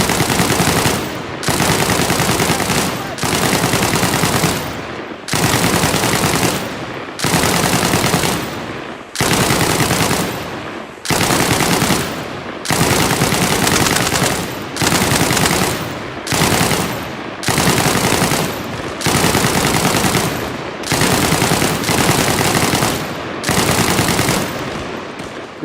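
Video game infantry field exercise gunfire: loud, close automatic bursts repeating steadily with brief gaps between them, no talking over the shooting.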